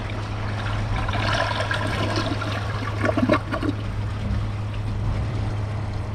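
A 1996 Kohler Wellworth light tank toilet with a WaterGuard flush valve, flushed with a press and release: a steady loud rush of water with a short swell partway through, heard alone over a low background hum.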